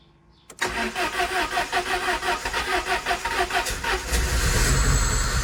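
A 2000 Peugeot 306 with a starting fault cranks with a rhythmic, pulsing starter churn for several seconds, then catches and rises into a louder, rougher engine run, close by and without talk.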